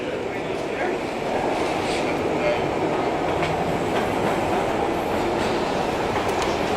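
A subway train pulling out in a film scene, a continuous loud rumble and rattle of wheels on rails with faint clacking, sustained throughout with a voice briefly heard beneath.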